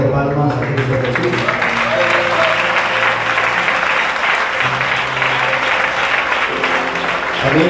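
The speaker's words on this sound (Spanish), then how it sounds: "le damos ofrenda de palmas a Cristo Jesús" A church congregation applauds loudly and continuously, with music or voices faintly underneath the dense clapping.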